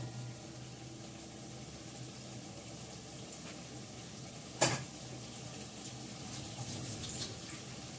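Ghee and garam masala sizzle in a pot of fish curry, a faint, steady hiss with one sharp metallic clink partway through and no voices.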